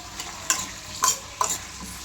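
Onions and vegetables frying in oil for Telangana-style pappucharu, a steady low sizzle with a few sharp stirring scrapes of the spoon against the pan, close and moderately quiet, no talking.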